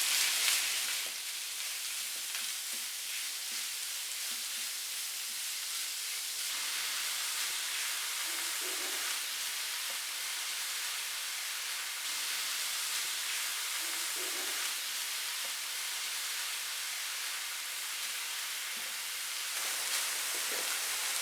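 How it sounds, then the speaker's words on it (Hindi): A quarter kilo of beef mince fries in a pan with lightly browned onion and garlic. It makes a continuous, even sizzling hiss at moderate loudness with no voices. "अब इसमें ऐड करेंगे 1 पाव बीफ का कीमा और इसको तकरीबन 3 से 4 मिनट भूनेंगे"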